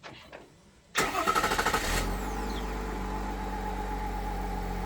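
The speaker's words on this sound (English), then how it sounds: "To use the remote start, you press the circle with the 2 in it 2 times." A 2018-2024 GM truck engine starts remotely: a brief cranking whir catches into a running engine, then settles into a steady, even idle, close and clear with no talking.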